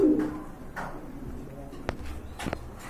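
Soft pigeon cooing in the background among a crowd of birds at a pigeon market, with faint footsteps and brief clattering sounds now and then.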